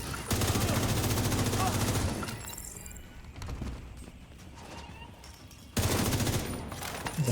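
Sustained bursts of rapid gunfire from shooting in a video game, loud and dense for the first two seconds, fading to quieter scattered shots, then a second loud burst near the end.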